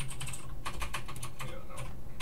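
Quick bursts of keyboard typing, close and fairly loud, with short pauses between clusters of keystrokes.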